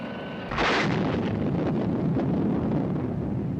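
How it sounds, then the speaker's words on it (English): A sudden deep boom as a CV-9 aircraft plunges into the Indian Ocean and explodes, then a long, steady roar of rushing, wind-like rumble that carries on without letup. "the CV-9 plunged into the Indian Ocean and exploded, creating a large plume of water and a mighty boom"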